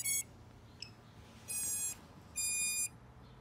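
A quadcopter drone fitted with a Happymodel ES900 ELRS receiver powers up and gives a short series of electronic beeps: a brief chirp, then two longer tones, close and moderately loud over a faint hum.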